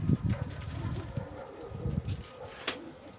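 Pigeons coo in low, soft murmurs that overlap steadily over faint background noise, with no voices.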